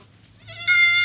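A young black goat kid, one of a newborn litter of three, gives a single close, loud bleat that rises out of quiet farmyard background.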